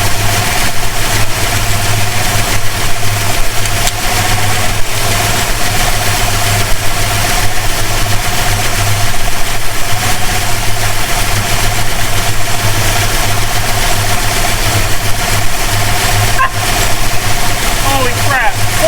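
A 1969 Plymouth Road Runner with a 440 V8, dormant for over twenty years, idles with a steady low rumble that stays constant throughout, while people talk nearby.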